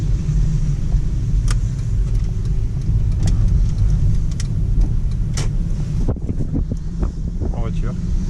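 A right-hand drive car in Japan rolls along with a loud, steady engine and road rumble and wind noise buffeting the microphone throughout.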